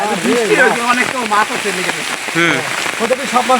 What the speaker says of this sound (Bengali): সেই বৃষ্টি বৃষ্টি দেখেন বন্ধুরা কি পরিমাণ পানি নামতেছে